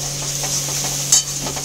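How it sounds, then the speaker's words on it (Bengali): Tomato cooking down with spice paste in a pan for a Bengali pomfret jhaal, a steady close sizzle with soft scraping stirs and one brief sharper clink near the end. "এবার আমি ভালো করে মশলাটার সাথে টমেটোটা কষিয়ে নেব যতক্ষণ না টমেটোর কাঁচা গন্ধটা যাচ্ছে।"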